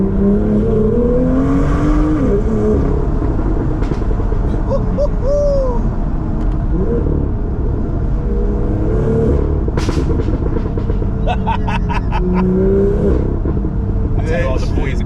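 A Litchfield-tuned BMW M2 rumbles and revs while driving with the windows down, its engine note rising and falling in repeated sweeps beneath constant excited talking inside the car.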